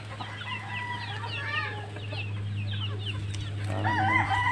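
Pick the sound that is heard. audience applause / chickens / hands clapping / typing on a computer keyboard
chickens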